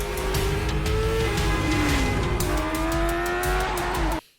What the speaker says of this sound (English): Is that John Wick's Mustang?